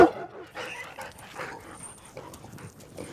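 A dog in an animated short film yips and barks in short, uneven bursts over a busy, rustling background.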